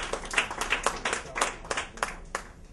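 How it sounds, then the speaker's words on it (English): A small audience claps for a group of sponsors at a corporate awards media launch, with a handful of distinct hand claps fading out over a few seconds at moderate volume, no voices. "Please give them also a round of applause."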